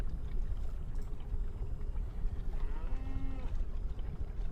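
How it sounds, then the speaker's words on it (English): A game master in a Cyberpunk RED tabletop session plays a cow mooing sound effect: one brief, faint moo over a steady noisy background. "I just wanted to trigger some cow noises as you're getting the sample"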